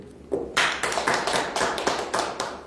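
Audience members at a lecture clap in a modest, uneven patter of separate claps that starts after a brief quiet moment, fairly close and moderately loud.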